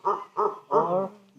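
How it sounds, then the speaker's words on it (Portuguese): Three hooting, resonant monkey calls in quick succession from a family passing overhead in the Guatemalan jungle at Tikal or Yaxhá, the last one drawn out, sounding from a short distance with no voices. "Aqui em cima de nós agora está passando uma família de macacos com bebês."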